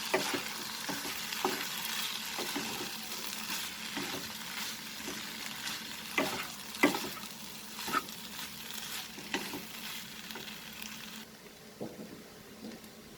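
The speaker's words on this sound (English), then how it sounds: "Now I have mixed it with the masala" Soya keema tossed with masala spices in a pan, a quiet sizzle under repeated scraping and tapping of a spoon, irregular strokes through the whole stretch, with no voices.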